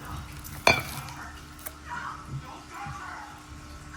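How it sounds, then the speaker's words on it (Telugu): A spoon scrapes and stirs mutton biryani mixture around inside a big pot, with a sharp metallic clank near the start and soft shuffling after. "ఇప్పుడు నేను ఇది అంతా కలిపి ఈ పెద్ద గిన్నెలో వేసి"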